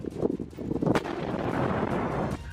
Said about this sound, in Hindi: हर तरफ सिर्फ गोलियों की गूंज और तोप के गोलों की आवाजें सुनाई दी।